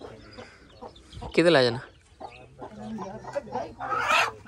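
A hen clucks loudly and close on a small rabbit farm, with a sharp burst of clucking and quieter calls after it, while someone talks over it.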